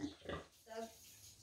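Pig grunting and oinking in short bursts, fairly close, in what sounds like a farm pen; a voice talks over part of it.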